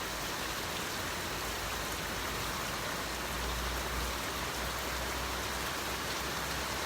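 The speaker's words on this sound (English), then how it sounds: "Ghana rain is something spectacular" Heavy rain pours down steadily in Ghana, a dense, even hiss of drops on surfaces that holds constant throughout with no talk.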